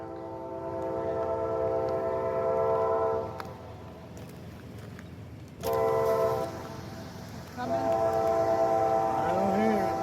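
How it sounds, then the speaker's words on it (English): Freight train passing close by, its horn sounding in several long blasts between stretches of rolling rumble and wheel noise. "we have a train coming."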